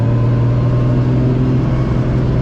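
A Nissan 240 driven on the road after rear differential and alignment work: steady low engine drone and road rumble from inside the cabin, continuous and loud, no talking.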